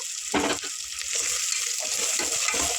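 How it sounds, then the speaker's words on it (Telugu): Onion paste and turmeric frying in a pan for an Andhra-style goat head curry, a steady close sizzle with stirring scrapes, no talk. "పసుపు కూడా కొంచెం వేగనేయండి"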